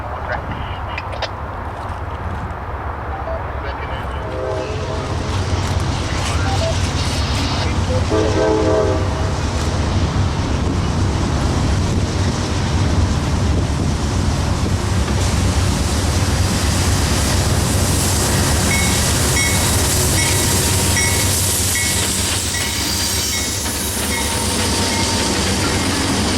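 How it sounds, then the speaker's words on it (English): Daily manifest freight train Q647 led by AC44 locomotives rolls past near an Amtrak station and rail diamonds in Birmingham, Alabama, a loud, sustained rumble and rattle of cars with horn-like tones and metallic screeching rising over time. "Q647 is a daily manifest freight train running out of Chicago"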